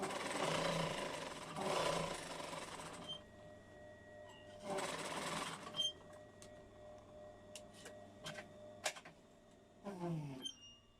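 A sewing machine stitches a quilt seam in short bursts of rapid whirring, with pauses, scattered clicks, and a final brief run near the end, fairly faint and close.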